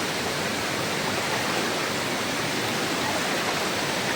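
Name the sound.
jungle river water flowing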